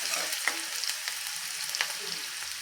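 Close, steady sizzle of onions sautéing in hot ghee, with faint stirring clicks and pops.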